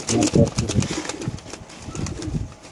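Caged Giribaz pigeons at a pigeon market coo in low, soft bursts amid a busy background of voices and rustling, with a few louder close calls early on.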